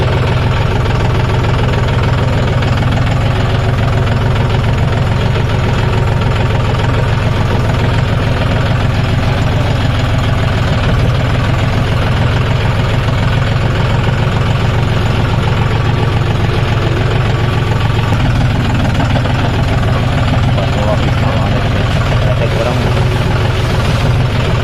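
A John Deere 5050 D 4WD tractor engine runs steadily and loud close by, a continuous low rumbling drone throughout, with some voices in the background.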